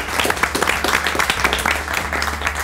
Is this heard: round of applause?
yes